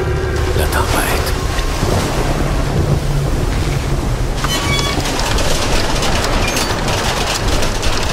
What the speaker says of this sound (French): La tempête.